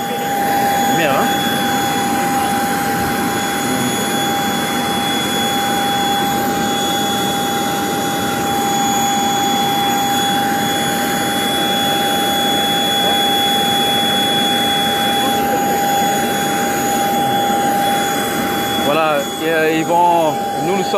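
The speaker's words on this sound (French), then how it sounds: "Ils vont juste essayer de faire un peu un mouvement de l'avion pour mieux se positionner." A jet airliner at Goma airport manoeuvres into position, with a loud steady engine roar and high whine running throughout and brief rattling near the end.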